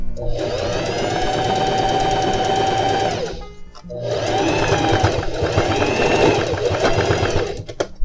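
A sewing machine runs in two sustained, loud bursts as it stitches a straight seam on denim jeans being widened at the side, with a brief pause between runs and no talk.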